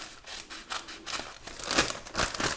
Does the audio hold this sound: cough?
no